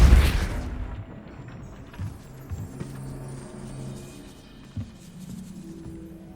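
A Depulso spell cast in Hogwarts Legacy, near a gatehouse, lets off a single loud burst at the start that fades into a rumbling decay, followed by a few softer thuds and clatters over low game ambience.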